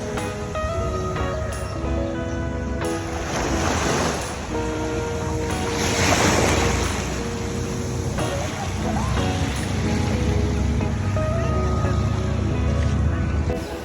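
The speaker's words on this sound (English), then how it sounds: "We are at another part of the beach at Tokyo Beach Park." Ocean waves wash onto the shore at a beach park in Hawaii, a steady roar of surf with wind buffeting the microphone and voices talking over it.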